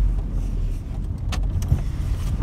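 A 1986 Vauxhall Cavalier GLSi passes over speed bumps, its engine and road rumble steady while low thuds and knocks jolt through the cabin, with a sharper bump near the end, heard from inside and with no talking.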